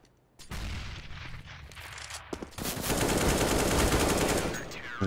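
Gunfire in a competitive online shooter match: a burst of shots opens the clip, followed by a dense, loud run of rapid automatic fire that rattles continuously and fades slightly at the end.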